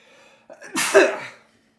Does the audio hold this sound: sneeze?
yes